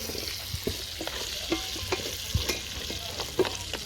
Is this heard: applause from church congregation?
no